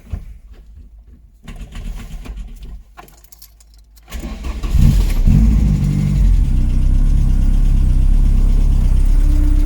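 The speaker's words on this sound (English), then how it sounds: "The problem arises when you start the engine." A Ford Fiesta MK1 engine with an electrical fault cranks over after a quiet stretch, catches and settles into a loud, steady idle that runs to the end, with birds cooing faintly in the background beforehand.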